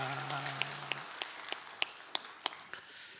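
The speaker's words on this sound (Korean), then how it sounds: "선제박수로 영광을 돌리겠습니다" A church congregation at a Sunday worship service claps in a series of sharp, evenly spaced claps, fairly faint in a reverberant hall after a short tone fades.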